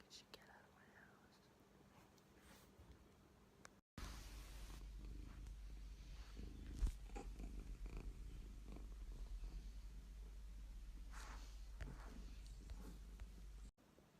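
A cat purrs close by in a continuous low rumbling drone lasting about ten seconds, with soft whispering faintly in the background.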